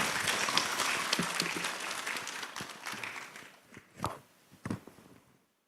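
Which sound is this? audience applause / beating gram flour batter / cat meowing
audience applause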